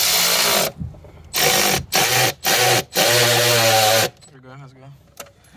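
Someone tightens an intake part on an E90 BMW with an N55 engine using a power tool. Several loud, close bursts of motorized whirring start and stop in quick succession, then a quieter tail.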